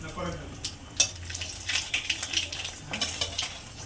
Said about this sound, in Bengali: মাছের তেলের মধ্যে দুটো শুকনো লঙ্কা একটু কালো জিরে ফোড়ন দিলাম